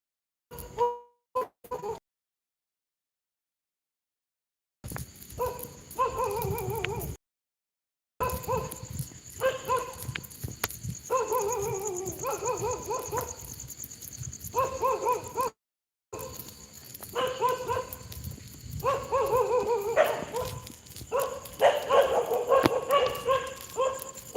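Several dogs bark and yip in excited, repeated bursts, fairly loud and close, broken by brief silent gaps, with no talk.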